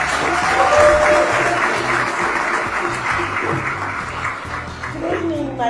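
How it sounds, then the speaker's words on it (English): Sustained crowd applause at a 2019 celebration of Haile Selassie's 127th birthday, loud and fairly close, with a few voices rising over the clapping before it gradually thins. "give a round of applause"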